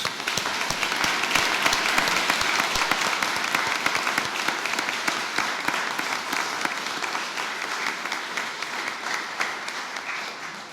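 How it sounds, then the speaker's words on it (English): A ceremony audience at the Royal College of Physicians of Ireland applauds new members, a sustained wash of many hands clapping that fades slightly toward the end. "We'll have a round of applause for all our new members."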